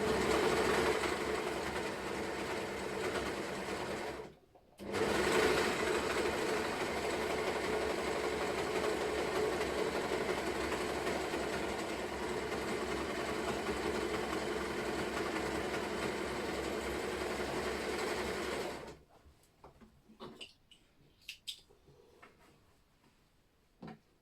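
Steady mechanical whirring and rattling of a sewing machine running continuously for a long stretch, with one brief pause, then stopping into quiet clicks and handling noises.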